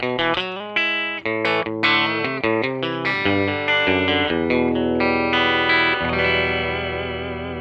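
Electric guitar played with a clean tone through a loop switcher setup, a series of picked notes and chords ringing out clearly, loud and alone with no talking.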